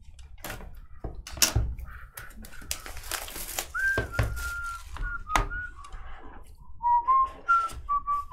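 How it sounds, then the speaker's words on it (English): Someone whistles a loose, wandering tune during a sports card case break, in short melodic phrases broken by thunks and handling knocks, close by and fairly clear. "Wow, it was a serious whistling going on here."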